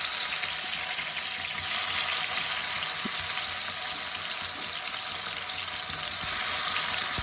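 Tomatoes sizzling and frying steadily in a pan for a tomato masala, a continuous hissing crackle with no voices.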